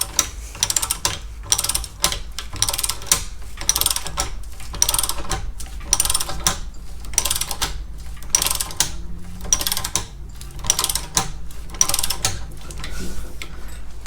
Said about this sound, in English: Decommissioned torque wrench